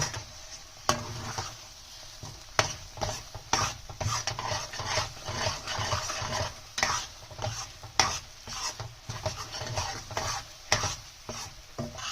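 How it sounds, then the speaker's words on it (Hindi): Cream being stirred into mixed vegetables in a pan, a steady scraping and sloshing stir with soft sizzle underneath, punctuated by sharper clinks of the spoon against the pan, close and continuous throughout with no talking. "सो क्रीम को जो है अच्छे से इसमें मिक्स करेंगे"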